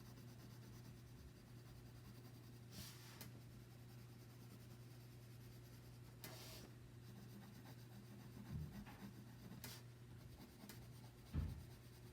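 Soft, steady scratchy rubbing of a pencil on paper, continuous and close, with a few brief louder strokes and no talking.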